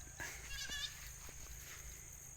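A goat on a farm lets out one wavering, quavering bleat, fairly faint and held for under a second, over a steady low background hum with a few soft knocks.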